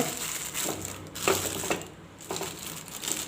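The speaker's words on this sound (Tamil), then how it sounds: "இது மேலே ஒரு அலுமினியம் ஃபாயில் போட்டு கட்டிடலாங்க" Aluminium foil is crumpled and pressed over a cake tin in a home kitchen, giving loud crinkling, crackling bursts in irregular rhythm, close by and with no talk.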